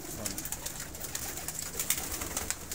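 A pigeon coos repeatedly nearby, soft throaty calls rising over a busy, rustling background.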